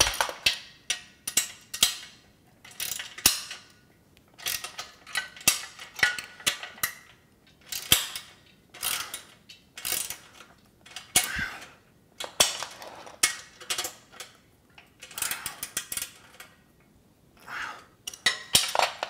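A ratchet tightens 3/8 bolts on tubing while a Body Solid EXM3000 gym machine is being assembled, giving quick bursts of clicking with short pauses in between, close up and fairly loud.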